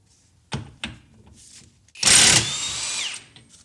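A Harbor Freight Gen 2 Hercules Ultra Torque impact wrench with a 32mm socket on an axle nut gives two short clicks, then a loud, close burst of hammering that lasts about a second before fading into a whirring spin-down.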